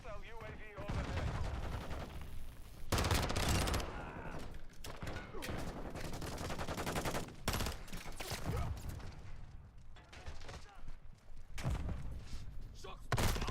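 Gunfire in the video game Call of Duty Modern Warfare II, dense bursts of automatic shots and heavy booms filling the mix at close range, with a player talking over parts of the action.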